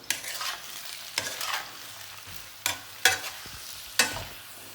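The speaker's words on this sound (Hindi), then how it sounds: "ये देखिए चीज़ें इसमें चली गई, अब मैं इसको मिक्स करती हूँ।" Chicken spring roll filling with soy sauce is stirred in a hot pan, a frying sizzle broken by repeated loud scrapes and knocks of a spatula against the metal, close and uneven in rhythm, no voices.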